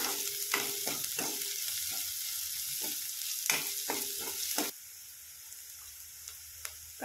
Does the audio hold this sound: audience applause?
no